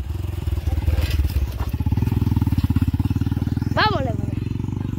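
A motorcycle ridden along a road, with a close, steady rapid putter of the engine throughout and a short voice heard over it near the end.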